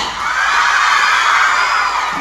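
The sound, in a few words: audience clapping loudly at a live event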